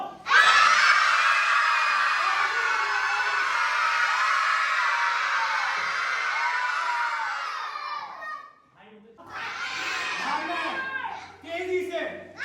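A large group of schoolchildren shouts together loudly, in a long sustained burst. After a brief dip it rises again into a second wave of shouting, close and dense with many young voices.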